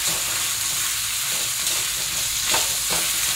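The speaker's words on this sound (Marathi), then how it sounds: "आलं, लसूण आणि याचं वाटण टाकते, हिरव्या मिरचीचं। चांगलं असं परतून घ्यायचं।" Ginger, garlic and green chilli paste sautéing in a pan for a spicy green pea thecha, a dense close sizzle with a couple of stirring scrapes.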